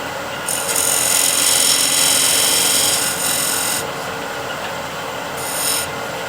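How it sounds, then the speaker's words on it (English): A negative rake scraper shaves a taper on wood spinning in a lathe, giving a steady, loud rasping scrape in long sustained passes with brief pauses between them. "just grabbed the negative rake scraper and I'll just make a little taper like so"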